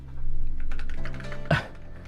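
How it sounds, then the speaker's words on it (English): Rapid clicking of typing on a computer keyboard, heard up close and fairly loud for about two seconds with a brief sharper clack near the end; no talking. "Lono, you hear him typing."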